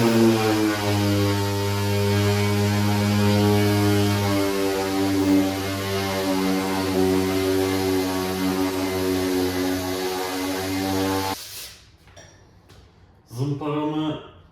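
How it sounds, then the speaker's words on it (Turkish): A power sander drones steadily on a yellowed car headlight lens, a loud, even hum that stops abruptly near the end, followed by a few light clinks. "Bir yandan da zımparaya devam ediyorum."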